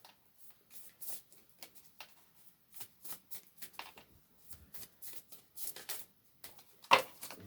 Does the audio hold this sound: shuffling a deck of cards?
yes